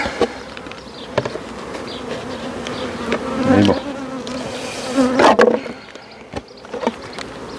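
A honeybee swarm being moved into a small nucleus hive, giving a steady close insect buzz throughout with a few louder swells and some handling knocks, while someone speaks briefly.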